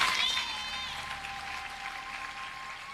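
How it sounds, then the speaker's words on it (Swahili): A church congregation claps together during a sermon, producing a steady wash of applause that starts fuller and then holds at a moderate level, with faint tonal sounds underneath. "Pigie makofi Mungu kwanza."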